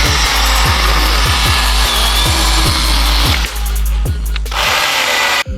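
Cordless battery chainsaw cutting wood, a loud continuous whining buzz with rhythmic chugging pulses as the chain bites, briefly easing before a final surge and abrupt stop.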